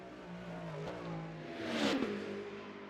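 Race cars accelerating at Le Mans in a racing video game produce a rising engine whine that swells into a loud revving pass near the two-second mark, then fades slightly.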